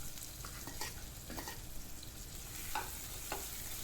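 Crushed green chili and garlic temper in hot oil for goat leg soup, crackling and sizzling steadily up close with a few soft stirring scrapes.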